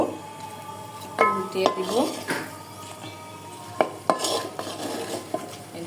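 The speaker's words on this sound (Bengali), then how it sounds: "দেখো, আমি মাছটাকে ভাজতে দিয়েছি।" Fish frying in a clay pan as it is flipped: a soft, steady sizzle runs under metallic scrapes and a few sharp clinks of a utensil against the pan, heard close.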